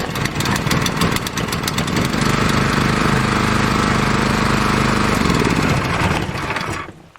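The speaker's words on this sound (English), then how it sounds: "I'm just going to make sure it'll fire up here real quick before I set it on the ground." A Harbor Freight Predator 212 small engine starts and runs loud and close, with a rapid, steady chugging putter that holds for several seconds before dying away at the end.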